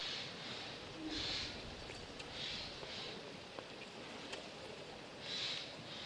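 A steady, soft wash of water running under a partly frozen mountain stream on Doilbong, Yangpyeong, South Korea, continuous and broadband, with a few faint high chirps drifting over it.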